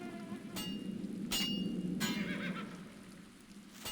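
A video game horse whinnies in several short bursts over a low steady hum, fairly clear against quiet background.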